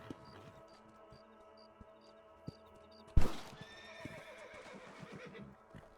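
A horse whinnies in a Red Dead Redemption game scene, a loud burst near the middle followed by clip-clop hooves and layered in-game ambience with faint tonal chirps.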